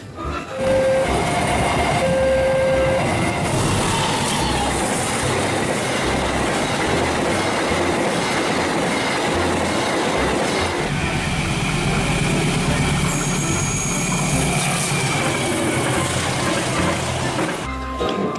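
A commuter electric KRL train passes close and loud, a continuous roar of wheels and rail clatter with brief horn tones, steady for the whole stretch before cutting off.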